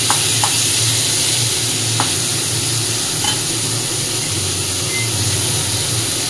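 Food frying in a pan at home while being stirred, a steady close sizzle with a few light scraping clicks of the utensil, no voices present.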